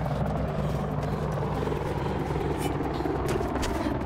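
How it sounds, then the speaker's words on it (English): Helicopter rotor drone from the video game Mirror's Edge Catalyst, a steady, dense, continuous whir holding level throughout, with a person talking over it. "So I need to run away from that helicopter."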